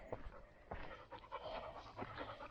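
A dog on a lead pants quickly and rhythmically during a country walk, its breathing close but fairly quiet and continuing throughout with no talking.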